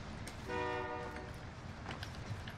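Train in the Call of Duty Warzone video game, a brief horn-like tonal blast rising over steady rumbling game noise, fairly faint overall.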